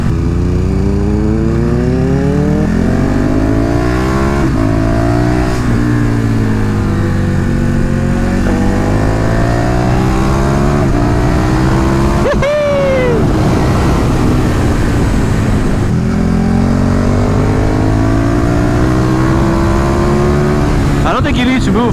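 A KTM 1290 Super Duke motorcycle revving repeatedly while riding, loud and close, with engine pitch sweeping up and dropping through gear changes over wind noise, and someone talking over it.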